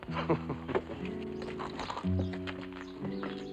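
Horses walk with clip-clopping hooves on a western frontier town street, fairly faint under a swelling orchestral score with sustained low tones throughout.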